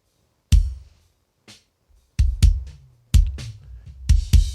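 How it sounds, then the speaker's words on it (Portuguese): Several punchy compressed kick drum hits in an uneven pattern, each tight and short, with a few fainter taps between them. "Vamos ver agora o compressor atuando sobre o som do bumbo."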